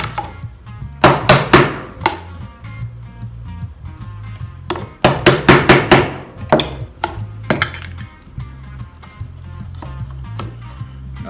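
A sharp chisel cuts the neck opening in a wooden cigar box, giving several clustered bursts of chopping and scraping over a steady bed of background music.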